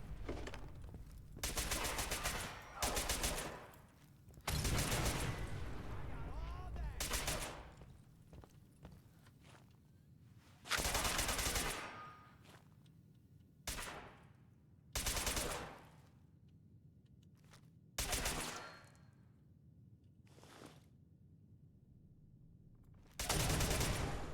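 Bursts of gunfire from a companion's gun in Fallout 4 ring out in about nine short, loud volleys separated by quiet gaps of a second or more, with no talk over them.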